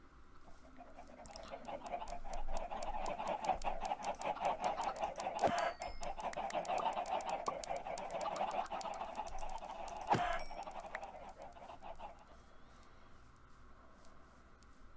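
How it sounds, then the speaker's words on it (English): Chickens cluck and chatter in Minecraft, a busy stretch of close clucking over steady game ambience with a couple of sharp clicks, fading out near the end, no voices. "Stop moving, chicken."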